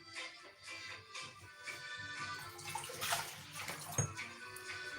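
Water runs from a tap into fondant icing in a kitchen, a soft splashing trickle that shifts in tone and grows a little busier toward the end, with a small clunk near the close.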